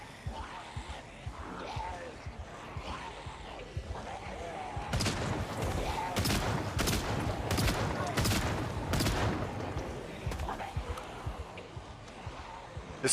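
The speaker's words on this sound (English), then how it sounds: "Level up our shooting a little bit." Video game gunfire from Project Zomboid as zombies are shot, a series of sharp shots around the middle over a busy background of groaning crowd noise, with talk at times.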